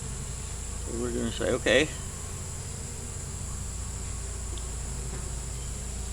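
Honeybees hum steadily at an open hive during an inspection, a low continuous buzz throughout, with a brief burst of talk near the start.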